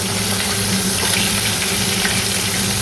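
Fish heads frying in hot oil make a loud, continuous, close-up hiss and crackle with an even, unbroken texture throughout, and nobody talks over it.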